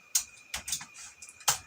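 Sharp keyboard key clicks, about four separate taps spread across a short moment, close and clear in a quiet room.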